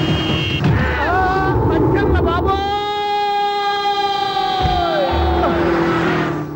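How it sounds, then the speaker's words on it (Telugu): A vehicle siren wails in a steady rising-and-falling tone for several seconds in a street scene, with brief voices and background bustle at the start and end. "సైరన్నే కొట్టాడు నేను కొట్టమన్నది హారను"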